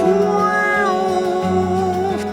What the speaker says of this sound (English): The slide sound on the lap steel, or maybe it's a guitar with the volume pedal